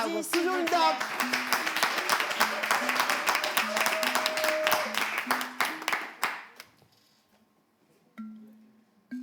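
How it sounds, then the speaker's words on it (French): A live slam poetry competition audience claps for a contestant: dense, steady applause for about six and a half seconds that then dies away, with a voice heard at the start and end. "On l'applaudit."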